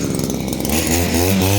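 A small cheap engine bought from Temu is pulled over slowly and easily, producing a short, loud, rough mechanical churning that picks up slightly toward the end.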